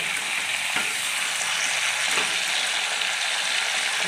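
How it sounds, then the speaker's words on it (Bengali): Pieces of pointed gourd (potol) sizzle steadily in hot oil, a continuous close crackle with a few soft stirring knocks and no voices. "পটলগুলো আমার হালকা ভাজা হয়ে গেছে, আমি তুলে নেব"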